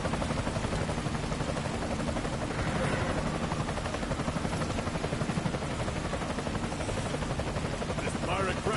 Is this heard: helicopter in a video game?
yes